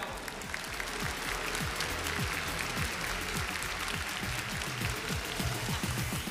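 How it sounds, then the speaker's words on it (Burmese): Applause at an M6 Myanmar qualifier esports match for the Zeno Esports team, steady dense clapping from a crowd throughout with no voices. "Zeno Esports အတွက်လည ်းလက်ခုပ်တန်လေးနဲ့ကျွန်တော်တို့ဒါချီးကျူးပေးကြပါအောင်ဗျာ"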